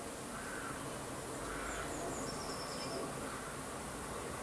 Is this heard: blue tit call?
yes